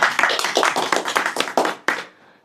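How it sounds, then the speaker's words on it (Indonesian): An audience claps during a talk, a burst of distinct, fairly close hand claps in an uneven rhythm that thins out and stops after about two seconds. "tepuk tangan, tepuk tangan."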